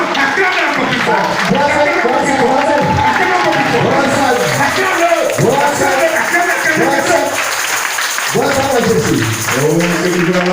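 A church congregation at a temple in Assindi acclaims and cheers, a loud, dense wall of many voices shouting and calling together without a break.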